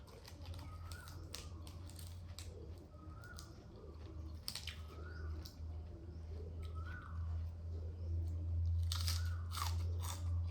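Close-up biting and chewing of crisp fresh vegetables eaten with a cucumber papaya-style salad, repeated crunchy bites and moist chewing with occasional faint birdsong in the background.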